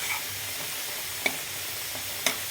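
Amaranth stew simmers and sizzles in a pot as coriander powder is stirred in, a steady soft hiss with two faint clinks of a spoon against the vessel.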